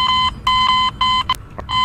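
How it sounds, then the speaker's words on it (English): A loud, piercing electronic beeping repeats in quick bursts, sharp and insistent, with no voices, in the video game VRChat. "Dude, I just heard that beeping."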